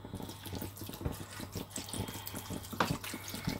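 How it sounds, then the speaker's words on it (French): Water runs steadily into a cooking pan while a pan of mixed vegetables with potatoes and smoked trout is being prepared, a continuous splashing stream at close range with a rhythmic background beneath. "Donc là, on va mettre de l'eau."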